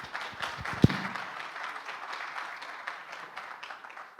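Light, thin audience applause for a conference speaker, a scattering of claps with one sharp nearby clap early on, fading lower toward the end.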